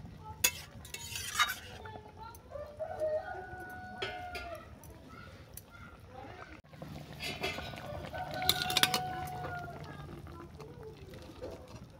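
A pan of bata fish curry with raw mango is stirred, with a few scrapes and clinks of the spoon over a soft simmer, and a rooster crows faintly in the background.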